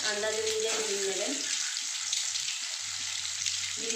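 Eggs frying in hot oil in a home kitchen pan, five eggs cooking for a capsicum egg curry, giving a steady broad sizzle throughout with a voice talking over it in the first part.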